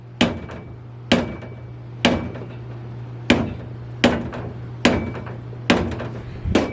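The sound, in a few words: hammer hits on spanner nut, Ford 9 inch differential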